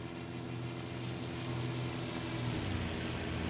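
A propeller-driven aircraft passes by in the combat flight game IL-2 Sturmovik: Battle of Stalingrad, its engine giving a steady, buzzing drone that swells slightly as it goes by.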